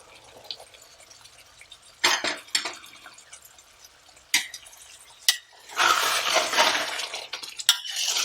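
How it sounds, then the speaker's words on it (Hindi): Half a cup of hot water poured into a pan of Punjabi chicken curry, then stirred: scattered splashes and clinks at first, followed by a louder burst of sizzling, splashing liquid and scraping utensil near the end. "ये आधा कप पानी गर्म जो है मैं वो डाल रहा हूँ"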